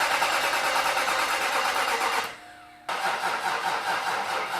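A Nissan VK56 V8 engine cranking over on a weak battery after a rebuild, a loud, close, steady rhythmic churn that stops briefly, then resumes.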